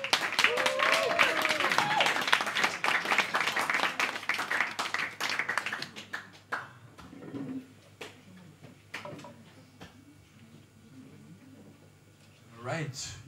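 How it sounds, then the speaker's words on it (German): Audience applauding a cellist at a small acoustic café stage, a dense burst of clapping for about six seconds that thins to scattered claps and fades, with background murmuring and voices afterward. "Großen Applaus bitte."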